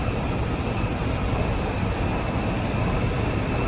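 A Sydney Metro train running at speed, a steady, loud broadband rumble and rush with a faint high whine held throughout, no voices.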